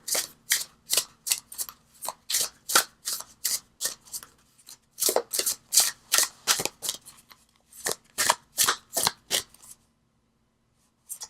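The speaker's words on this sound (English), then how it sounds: "keep shuffling" Repeated crisp riffle-and-bridge bursts of a tarot deck being shuffled, close and steady, with a short pause midway before the shuffling resumes.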